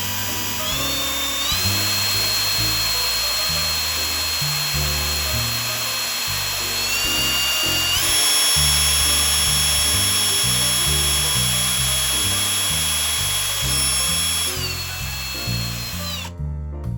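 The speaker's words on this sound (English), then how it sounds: "use the 3/8 inch drill bit to drill the holes for the cables." A power drill with a 3/8 inch bit bores cable holes in an IKEA Billy bookcase. It gives a loud, continuous, close-up whine that shifts pitch in distinct steps as the load changes, with no talking.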